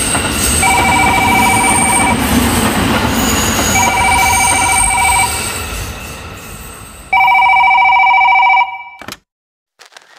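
A telephone rings in a radio play, bursts of loud electric bell ringing repeating over a rumbling train-like background, ending with a final ring before sudden silence.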